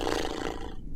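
A horse-like animal call comes from a lever in a video game puzzle, a short, loud, roaring whinny that fades within about a second.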